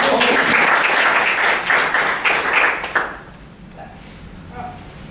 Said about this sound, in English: And you can give her an applause.